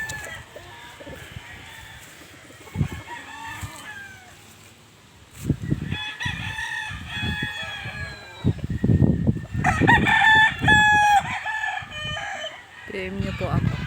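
Several roosters crow one after another at a game farm, loud and close, with clucking chickens mixed in and people talking quietly in the background.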